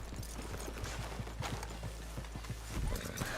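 Horse hooves clip-clop in Red Dead Redemption 2, a brisk, close run of hoof strikes on a town street, with a brief heavier thud near the end.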